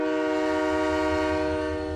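A departing train in an animated Halo 3 ODST scene sounds a long, steady horn with strong sustained tones over a low rumbling drone, loud and continuous.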